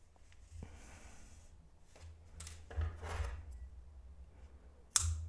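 Scissors snip black yarn on a crocheted coaster during a quiet craft session, giving a few soft close rubbing and cutting sounds and a sharp click near the end.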